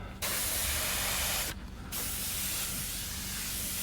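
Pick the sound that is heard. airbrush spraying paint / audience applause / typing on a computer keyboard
airbrush spraying paint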